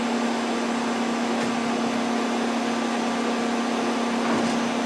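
A Sunnen SV-3 vertical two-stage honing machine runs with a loud, steady mechanical whine and hum that holds unchanged throughout, close by and without talk.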